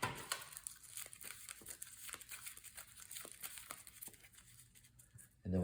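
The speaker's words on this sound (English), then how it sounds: "let's shuffle up the encounter deck" Cards from a card game's encounter deck being shuffled, giving a steady run of soft, papery riffling and crinkling clicks, close and fairly quiet, with no talk over it.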